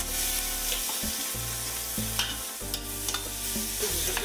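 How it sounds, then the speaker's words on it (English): Chorizo and ham browning in a pan for Spanish bean soup, with a steady sizzle broken by repeated spoon scrapes and stirring, close and fairly loud with no talk. "And we're doing the meat, getting it nice and brown."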